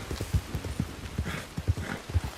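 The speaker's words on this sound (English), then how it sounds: "I'm riding my horse, Wampum" Horse hooves clip-clopping while riding in a video game, a Missouri Fox horse, with an irregular run of close, fairly loud hoof thuds over a couple of seconds and no voices.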